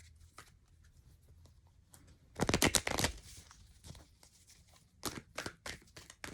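A tarot deck is shuffled in two close, crisp bursts of riffling cards, the first short and strong, the second a patter of quicker flicks, between quieter light handling sounds.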